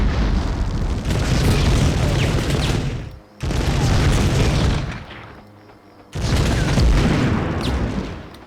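Repeated loud, heavy blasts of grenade explosions and battle noise in the Medal of Honor video game, in long roaring bursts separated by brief lulls, with no talk.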